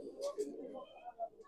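Punjabi madrasi pigeons cooing softly in a few short, close calls, with someone speaking over them.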